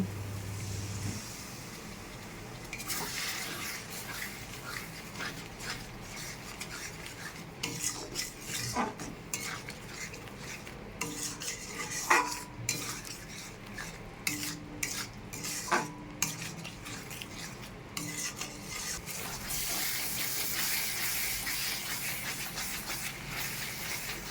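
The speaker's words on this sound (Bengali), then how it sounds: "একটু জল দিয়ে মশলাটা কষিয়ে নেব" Spice paste stir-fries in a pan with a little water, giving a low steady sizzle under repeated scraping and clinking of a spatula against the metal, which ends in a louder, even hiss.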